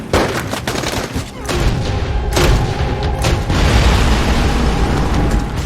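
Heavy gunfire in a Shooter series action film: dense, loud bursts of shots and booming impacts that continue without pause.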